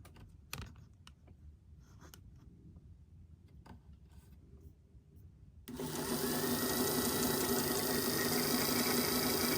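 A domestic sewing machine winds a bobbin. Faint clicks and handling noises come first, then a loud, steady high-pitched whirring motor runs continuously to the end.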